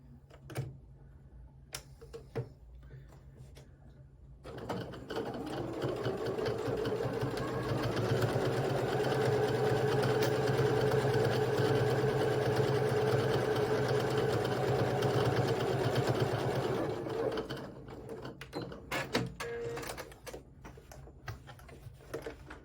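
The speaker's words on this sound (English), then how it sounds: "Now we'll take it to the machine and we'll get that part done. Okay, let's go ahead and sew this." A sewing machine stitches quilting lines in one long, fast, steady whirring run after a few quiet handling clicks, then slows and stops, with light fabric rustles and clicks at the end.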